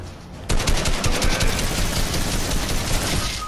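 Rapid automatic gunfire in the video game Fortnite, a dense sustained burst of shots that kicks in suddenly and keeps rattling loudly and close for several seconds.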